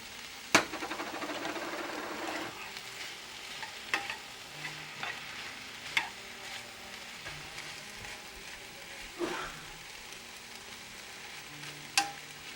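Real shrimp sizzle in a frying pan for seafood fettuccine, a steady crackling fry with a stronger hiss as they go in and sharp spoon or utensil clanks every few seconds.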